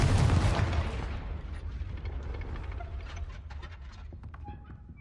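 A Confringo spell blast from the video game Hogwarts Legacy erupts loud and booming at the start, then rumbles and decays over a few seconds into a fading crackling tail.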